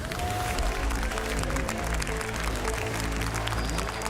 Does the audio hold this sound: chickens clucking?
no